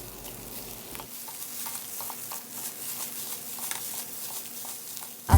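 Rice being stirred and fried in a pan with soft scraping and a steady sizzle, moderately close, with no talking.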